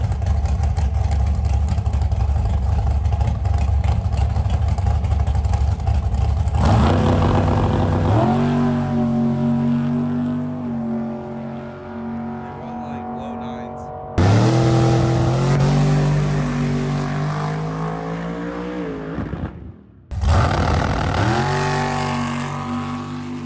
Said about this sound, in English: So here's the shorter wheelbase cars. They're Firebirds.